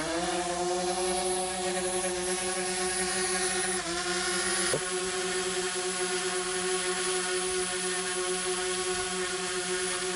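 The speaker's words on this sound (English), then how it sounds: "Right, so I'm going to take the drone off." A camera drone fitted with a polarizing lens filter lifts off and hovers, its propellers giving a loud, steady, high-pitched buzzing whine that holds nearly constant throughout, with a brief dip in pitch partway through.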